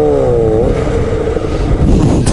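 A Honda CBR 1000 sport motorcycle is ridden on the road in a group of fast bikes. Loud engine drone and heavy wind rush roar continuously, with a brief rising engine tone at the start.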